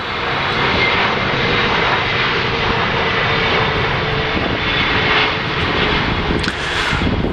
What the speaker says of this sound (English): There's another plane landing.